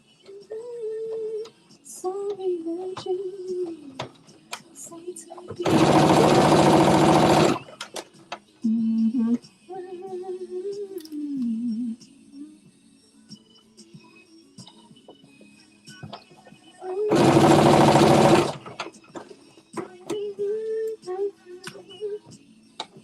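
Sewing machine running in two loud sustained bursts while stitching a back yoke to a back pattern piece of a Simplicity S9463 garment with a 5/8-inch seam allowance, separated by quieter stretches with a voice talking.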